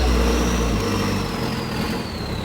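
A loud modified 3000cc car engine idles with a deep, steady low rumble and a faint whine, close and alone.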